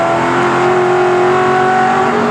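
Allan Grice's touring race car from the 1987 Bathurst 1000 drones at a steady, loud, close engine note as it heads easily down toward the pits.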